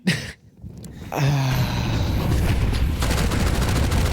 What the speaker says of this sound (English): Mac 10 empties the mag